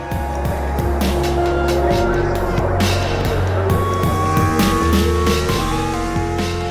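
Formula 1 cars from the 2005 season rumble around the formation lap, engines revving and passing at moderate speed in a layered, continuous drone, with crowd or commentary noise faintly underneath.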